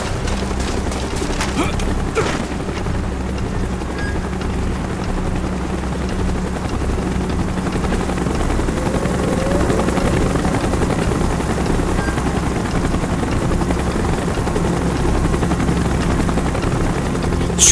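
A Call of Duty Black Ops helicopter roars loud and close throughout, its steady rotor throb and low engine rumble holding constant, with a few sharp clanks near the start and faint voices buried underneath.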